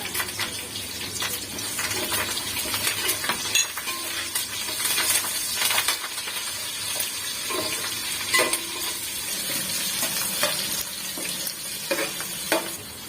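Chopped onions with green chillies, curry leaves and cumin deep frying in oil until brown for bagara rice, a steady close sizzle with occasional stirring scrapes and clinks throughout.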